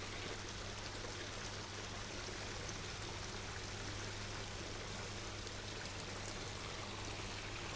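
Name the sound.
iron nutrient poured from a bag into an aquaponic system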